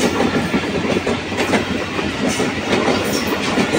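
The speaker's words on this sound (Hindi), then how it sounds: "AG30R212 जो लोकोमोटिव है वो लीड कर रहा है 47 और रहमान बाबा एक्सप्रेस को।" Rahman Baba Express, a Karachi-to-Peshawar passenger train led by a diesel locomotive, roaring through Malir Cantt station in Pakistan at speed, with loud continuous rumble and rapid clickety-clack of wheels close by.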